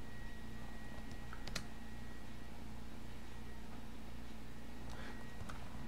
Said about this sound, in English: type in my user password